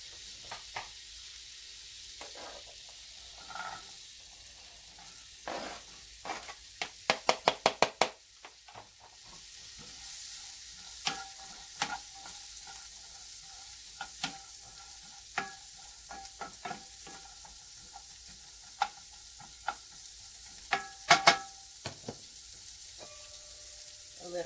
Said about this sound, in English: So now I'm going to saute some riced cauliflower in place of actual rice.